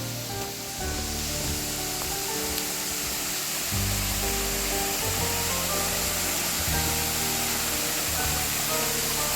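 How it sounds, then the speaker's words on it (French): A waterfall in Mont-Tremblant National Park gives a steady, broad rushing roar that holds at an even level throughout, with no voices. "il y a l'air d'avoir une cascade ou une chute"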